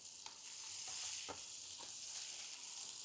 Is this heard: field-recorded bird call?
no